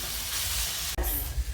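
Potatoes with cumin powder sizzle loudly in a pan, a dense steady frying hiss broken by a sudden clunk of the spoon as they are stirred, then more sizzling with low thuds.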